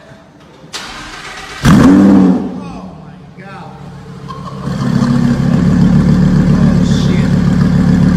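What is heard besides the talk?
Lamborghini Huracan starting and revving with Capristo exhaust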